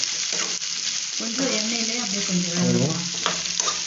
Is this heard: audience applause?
no